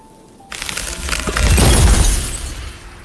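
A loud ice-shattering effect from an audio drama bursts in abruptly after near silence and spreads into a long, crackling, glassy crash with a deep rumble under it that slowly fades.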